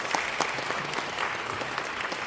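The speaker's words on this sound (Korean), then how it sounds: "박수라고 환영하겠습니다." A church audience at a debate forum applauds to welcome a pastor, with dense, even clapping for a couple of seconds at moderate distance.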